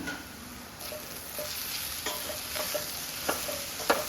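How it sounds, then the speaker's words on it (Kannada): Chopped coriander leaves go into a frying pan and get stirred, with a steady soft sizzle under scattered sharp scrapes and taps of the spoon against the pan, close and fairly quiet, no voices. "ಹೆಚ್ಚಿಟ್ಕೊಂಡಿರುವಂತಹ ಕೊತ್ತಂಬರಿ ಸೊಪ್ಪನ್ನು ಹಾಕ್ಕೊಳ್ತಾ ಇದ್ದೀನಿ."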